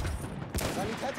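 Gunfire in the Battlefield 1 video game, with the Obrez pistol in use: a dense burst of loud, close shots in quick succession across a busy battle mix, with faint talk underneath.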